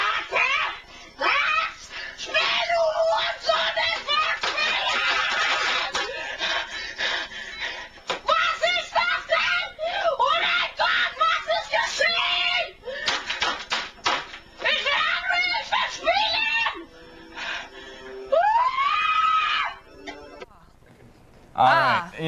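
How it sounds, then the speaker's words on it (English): A child screams and shrieks in loud, piercing bursts, mixed with giggling, other voices and a dog, with shrill rising cries near the end. "Bad kid screaming."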